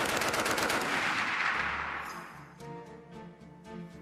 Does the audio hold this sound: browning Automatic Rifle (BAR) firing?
yes